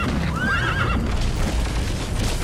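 A horse in Metal Gear Solid V gives one loud whinny over constant hoof clip-clop and game noise.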